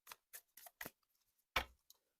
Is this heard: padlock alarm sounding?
no